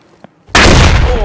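A grenade detonates in a tactical first-person shooter game: a sudden loud, close blast that rolls into a rumbling tail, following a brief quiet moment with a faint tap.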